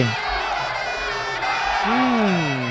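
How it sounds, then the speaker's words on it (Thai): Crowd at a Muay Thai fight at Patong cheering and shouting continuously, loud and fairly close, with rising excited calls toward the end. "ขอเสียงเชียร์ครับ"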